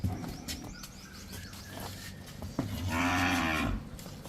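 A dairy cow on a farm lets out a single long, loud moo near the end, with a few faint bird chirps and some background noise before it.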